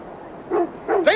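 A dog in an Assassin's Creed Valhalla cutscene gives two short, close barks, the second higher and yelping, over a quiet background.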